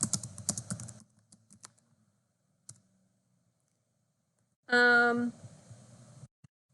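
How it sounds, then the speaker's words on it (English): Someone types a short message on a computer keyboard in a video chat app, a brief burst of close key clicks after earlier quiet tapping, with speech near the start. "I could just type in a message here."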